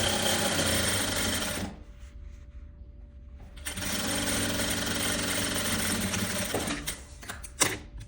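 A sewing machine stitches a seam on a stand-up collar vest in two long steady bursts, running loudly and continuously, with a short pause between them and a few clicks and handling noises near the end.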